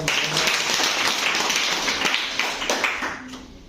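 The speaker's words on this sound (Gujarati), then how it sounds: "ભાઈ તાળી તો વગાડો" An audience at a school event claps in a steady, dense round of applause that stays loud for a few seconds and then begins to thin out.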